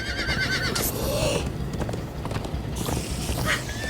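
Horses galloping under riders in the video game Minecraft Story Mode: a steady, close run of clip-clop hoofbeats with whinnies and neighs breaking through, loud and continuous throughout.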